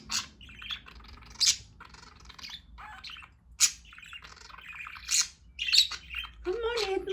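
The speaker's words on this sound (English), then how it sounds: "Hey, my cute baby bird." Pet budgies chirp and tweet close by in short bursts and brighter calls, with a person's quiet talk mixed in at times.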